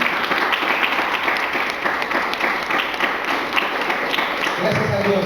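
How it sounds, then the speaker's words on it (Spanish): Church congregation applauding, a steady dense wash of clapping from a crowd filling the room, with a voice speaking near the end. "¿Cuántos le dan un aplauso al Señor?"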